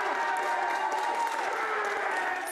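Liberal Democrat supporters cheer and applaud a by-election win in Chesham and Amersham, a steady dense crowd roar of clapping and shouting that holds at an even level throughout.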